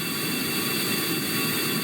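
Air-breathing VTOL jet engines on a spaceplane in Kerbal Space Program give a steady loud jet roar with a high whine, constant and unbroken from start to finish.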